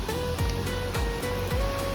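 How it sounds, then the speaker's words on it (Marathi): A hidden monsoon waterfall at Moramarwadi in Maharashtra pours in a constant broadband roar, with a thin steady whine and soft recurring low thumps mixed into the wash of falling water. "ओ भाई साहब मस्त आहे धबधबा."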